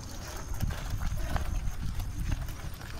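Bullocks' hooves clop along a concrete road in a steady, close rhythm over low rumbling movement noise, with no voices.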